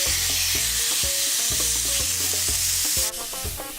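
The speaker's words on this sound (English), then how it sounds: "sizzle?" Chicken fajitas sizzle loudly and steadily in a frying pan, a dense crackling hiss that carries on the whole time while clinks and scrapes of stirring come through on top, louder near the start and easing a little toward the end.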